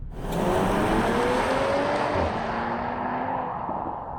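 A 2025 Audi SQ5 V6 engine running steadily from inside the SUV, a smooth muted drone with tire and road noise, the pitch rising slightly as it accelerates.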